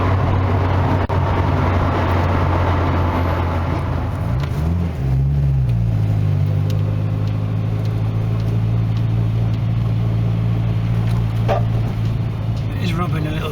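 A Nissan N13 Pulsar's engine drones steadily while driving in fifth gear, a low constant hum with a brief shift in pitch partway through, under continuous road noise inside the car.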